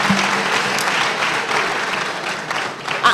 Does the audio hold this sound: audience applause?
yes